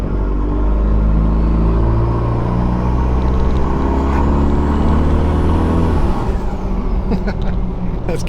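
A stock truck engine with a new valve body roars close and loud as it accelerates, its rumbling note rising and then falling at a quick gear change before climbing again.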